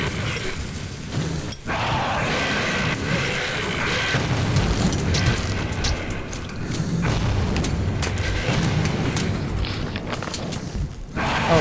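A grenade blast in the video game Metro 2033 makes a loud, dense rumbling boom that fills the whole stretch, with mechanical clatter and thuds layered over it.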